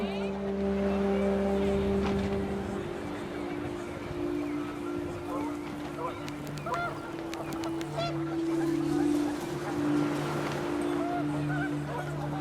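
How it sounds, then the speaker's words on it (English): Panicked geese honk in What Remains of Edith Finch, a cluster of excited calls rising over a droning background of wind, with a voice speaking over the scene. "The wind picked up, and panicked geese appeared and quickly went."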